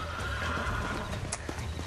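A wild horse in Red Dead Redemption neighs loudly and close, with hoofbeats clopping and the animal snorting against a continuous outdoor background.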